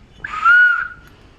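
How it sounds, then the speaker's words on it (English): A speaking tube whistle to the engine room aboard the steamship Freshspring sounds once, a clear, steady tone that swells and fades over about a second, loud and alone in a quiet boiler room. "the speaking tube just there, going through to the engine room, again with the whistle"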